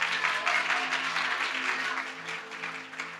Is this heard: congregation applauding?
yes